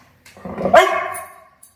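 A single close puppy bark, a short yappy yelp that rises sharply and trails off, followed by quiet.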